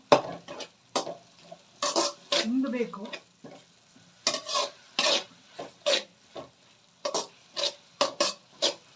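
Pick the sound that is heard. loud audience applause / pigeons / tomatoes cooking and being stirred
tomatoes cooking and being stirred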